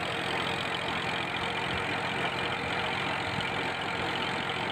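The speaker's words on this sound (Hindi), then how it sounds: "ट्रैक्टर की कारकर्दगी भी आप चेक करें।" A 2000-model tractor engine, about 20 years old, runs steadily during wheat threshing on a farm, a continuous low droning rumble at moderate distance with no talk.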